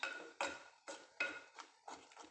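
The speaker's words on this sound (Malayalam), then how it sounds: "ഇളക്കിയിട്ട് അടച്ചു വെക്കുന്നുണ്ട്." Metal pot lid set down on a cooking pot of olan after stirring, several sharp clanks and rattles of metal on metal in an uneven sequence, close and fairly loud.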